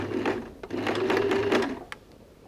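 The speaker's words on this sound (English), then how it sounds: "So we're going to start about an inch away and we're going to sew on the fold." A sewing machine stitches a folded neckline on stretch jersey fabric, running steadily for about two seconds with a rapid mechanical whir, close by and with no talk.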